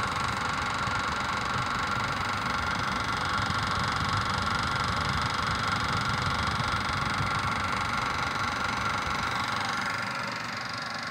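A Servis ExtraSpin 503 spin dryer runs at full speed, giving a steady, loud whirring hum with constant motor drone and airy rush that holds evenly throughout and eases slightly at the very end.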